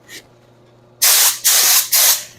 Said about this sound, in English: I'm going to start the spray.